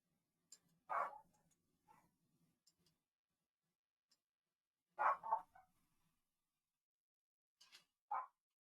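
A dog named Mochi barks a few times indoors, spaced out over several seconds, soft and somewhat distant against near silence.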